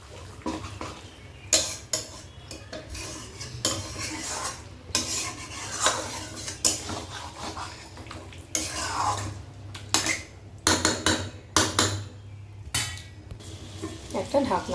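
Mutton with spices is stirred in a pan, a spatula scraping and clanking against the metal in repeated bursts of rhythmic strokes over a low background hum, close and moderately loud.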